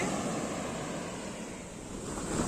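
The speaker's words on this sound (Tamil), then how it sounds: "மார்னிங் டைம் பார்த்தீங்கன்னா வேறு லெவலில் வேவ்ஸ் வந்துட்டுருக்கு, சூப்பராக இருக்குது" Morning ocean waves rolling onto the beach at Chavakkad, Kerala, a steady broadband wash of surf mixed with wind buffeting the microphone, continuous and fairly loud with no voices.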